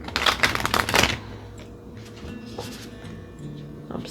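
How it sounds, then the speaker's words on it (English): Tarot cards shuffled by hand in a quiet room, a dense burst of riffling and flapping for about a second, then softer sporadic card slides and taps. "I don't like to shuffle those face up usually"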